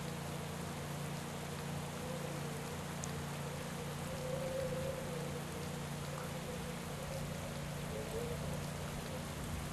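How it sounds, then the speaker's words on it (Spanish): Steady soft hiss of rain and wind in a cycling management video game during a stage of a race in Argentina, continuous and faint behind a low constant hum. "Se está poniendo a llover ahora, o se está haciendo un tiempo de perros"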